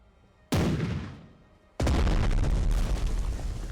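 Warship guns firing in the video game Strategic Mind The Pacific, two heavy booming blasts a little over a second apart, each with a long rumbling tail, loud and close.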